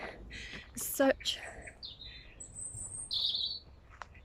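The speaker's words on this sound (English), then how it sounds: "The sounds, like the birds" Birds chirp and tweet outdoors on a wooded golf course in short, bright calls, some near and some farther off, over a quiet background.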